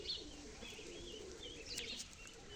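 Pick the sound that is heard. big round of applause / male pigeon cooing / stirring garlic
male pigeon cooing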